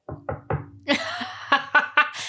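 Three quick knocks on wood, close and fairly loud in an even rhythm, followed by a burst of talk and laughter with further sharp sounds between voices.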